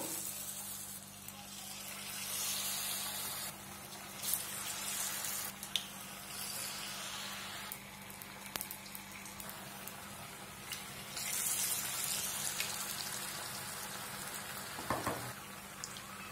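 Cauliflower bajji pieces fry in hot oil with a soft, continuous bubbling sizzle, the crackle rising and easing as pieces are added and turned, with no talking.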